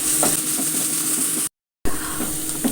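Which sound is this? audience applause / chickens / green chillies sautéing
green chillies sautéing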